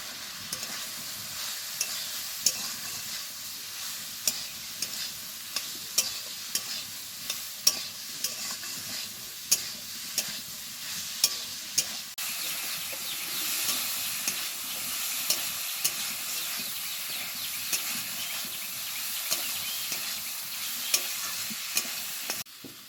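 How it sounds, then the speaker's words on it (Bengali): Snail curry (gugli) with chilli powder, turmeric and salt being sautéed in a pan, a steady sizzle broken by frequent sharp scrapes of a spatula stirring, close and continuous with no talk. "এবার সব কিছুকে খুব ভালোভাবে কষাবো।"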